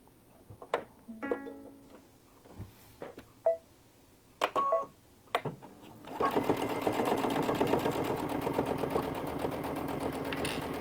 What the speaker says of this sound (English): And I'm just going to sew this down.